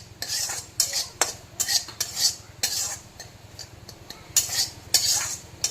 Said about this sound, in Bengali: এখন আমি সুজি ভেজে নিচ্ছি